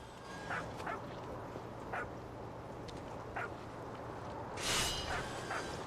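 A dog in a video game barks in a few short yips spread across the stretch, fairly faint over a steady low hum, with a louder, brighter burst of sound near the end.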